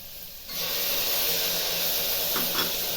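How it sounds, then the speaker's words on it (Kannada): Tomato goes into a pan of frying onions and green chillies for beetroot palya, bringing a sudden steady hiss of sizzling that stays loud and even, without speech. "ಈರುಳ್ಳಿ ಫ್ರೈ ಆಗಿದೆ ಟೊಮೆಟೊ ಹಾಕ್ತಾಯಿದ್ದೀನಿ"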